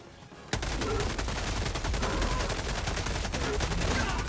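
Rapid bursts of automatic gunfire in the video game Helldivers 2 erupt after a brief quiet start, then continue as dense, loud, sustained shooting with overlapping shots throughout.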